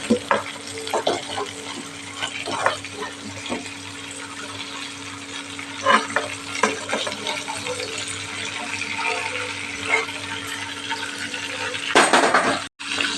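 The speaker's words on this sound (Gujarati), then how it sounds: "એ જ તેલની અંદર આપણે બટેકાને સરસ ફ્રાય કરી લેવાના છે" Potato pieces frying in hot oil give a steady close sizzle with occasional stirring scrapes and bubbling bursts, fairly loud throughout, and a constant low hum beneath.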